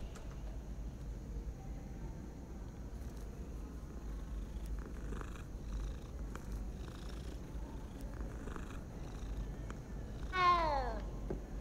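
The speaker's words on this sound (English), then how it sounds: "Hey, it's a cat again." A cat in the video game Hogwarts Legacy purrs in a low, continuous rumble, then lets out a single louder meow near the end, with faint game ambience beneath.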